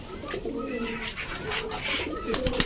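Pigeons kept by a breeder, including young birds taken from their nest, coo repeatedly at close range in a steady, overlapping murmur with a few sharper calls near the end.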